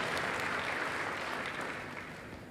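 A church congregation claps during a sermon, a dense, even wash of applause that is fairly faint and fades gradually across a couple of seconds.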